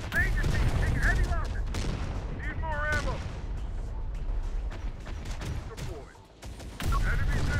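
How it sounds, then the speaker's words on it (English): Heavy machine gun fire from an MG emplacement in the Terminator: Dark Fate Defiance strategy game, loud bursts and booming impacts mixed with battlefield chatter and unit voice lines throughout. "Since there's a massive MG emplacement over there."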